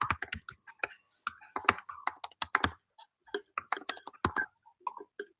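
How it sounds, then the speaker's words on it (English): Typing on a computer keyboard while entering a terminal command for a React.js setup, rapid clusters of crisp close keystrokes with short pauses between bursts, alone without talk. "I'm typing create react app"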